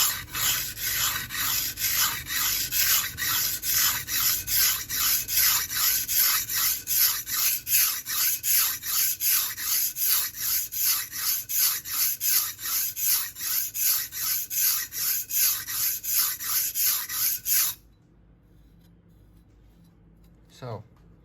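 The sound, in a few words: sharpening a hardened steel blade to raise a burr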